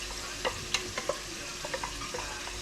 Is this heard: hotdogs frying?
yes